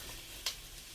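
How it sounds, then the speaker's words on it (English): Smoked sausages sizzle in a hot pan as a steady, soft hiss, broken by one brief sharp crackle partway through, with no voices. "let the sausages get a little color on them"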